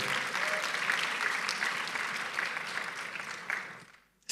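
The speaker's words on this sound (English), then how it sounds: "give them another round of applause" Steady applause from a sizable audience at a medical education conference fills the room, sustained and even before fading out at the end.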